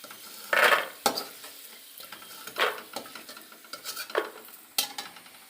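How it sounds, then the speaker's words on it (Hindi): Almonds and cashews dry-roasting in a pan, heard as a handful of separate scraping stirs and rattles of nuts against the metal, each a short burst over a quiet low sizzle, close by and with no voices. "तो इसी में भून लेते हैं ड्राई फ्रूट"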